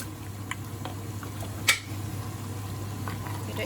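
Lamb for spinach and lamb palak gosht bubbling in a pot over high heat, a low steady simmer with scattered soft pops and one sharper splutter, close and without talk.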